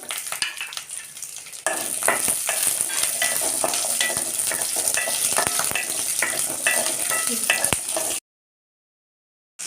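Sliced onion dropped into hot oil with red chillies sizzles loudly and continuously for about eight seconds, with scraping stirs and light pan clinks, then cuts to silence.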